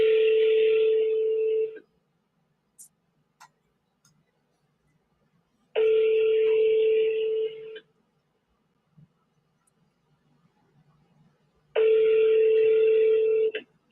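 Ringback tone of an outgoing phone call, heard three times as a steady electronic ring lasting about two seconds with long silent gaps between, close and clear with no talking.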